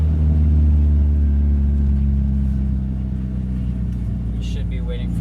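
Mazda Miata car rolling up to a workplace, a steady low engine rumble and road hum running throughout, fairly close and even, with a brief higher sound near the end.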